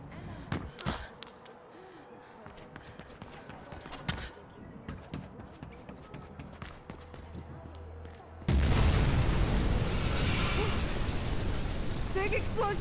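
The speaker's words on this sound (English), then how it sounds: "Explosion." In the video game Mirror's Edge Catalyst, a loud, dense explosion erupts suddenly and keeps roaring steadily, following quieter stretches of talk and scattered thumps and clicks.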